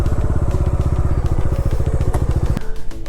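A motorcycle engine idles with a steady, close, rapid low throb while being parked at a lakeside dead end, then cuts off near the end, leaving quieter wind-like noise.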